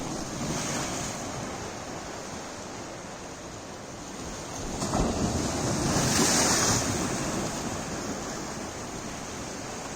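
Ocean surf on the Goa coast, a steady broadband wash of breaking waves with wind buffeting the microphone, swelling louder midway as a larger wave rolls in.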